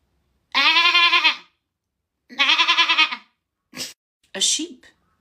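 A human voice imitates a goat, with two long wavering bleats followed by a couple of shorter clipped calls. The sounds are loud and close, with silence between them.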